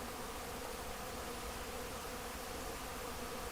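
Honeybees flying in and out of their hives, a soft, steady buzzing hum close by, faint and continuous with no voices over it.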